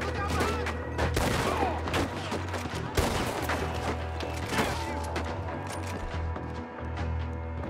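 A cowboy shootout in Red Dead Redemption 2, with dense overlapping gunshots and reports crackling at moderate loudness over a constant low rumble.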